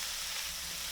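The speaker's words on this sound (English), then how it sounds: "Send the freshly chopped red pepper straight into the warm pan and mix it very evenly using the silicone spatula" Freshly chopped red pepper sizzling in a warm pan, a continuous, even hiss of frying, fairly soft and close, with no voices.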